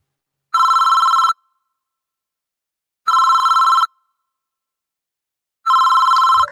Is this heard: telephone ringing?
yes